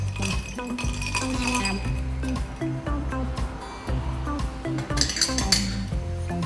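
A spoon stirs milk into siphon-brewed coffee, clinking repeatedly against the cup in quick irregular taps, close and clear, with faint background noise.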